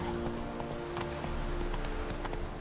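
A galloping horse in The Witcher 3, steady rhythmic hoofbeats running on under a constant background music drone, moderately loud and continuous.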